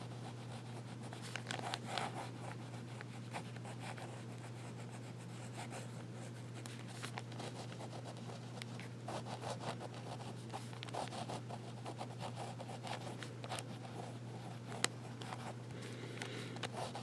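A Scripto fountain pen with a medium nib scratches across paper in quick, soft strokes, faint and close, over a steady low background hum.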